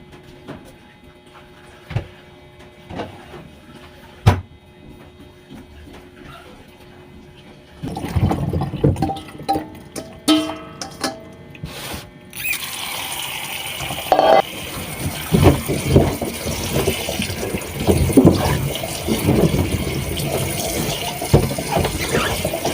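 Bottle gourd being washed in water in a home kitchen; quiet handling at first, then steady running and splashing water from about the middle onward, growing louder and continuing to the end with no talk.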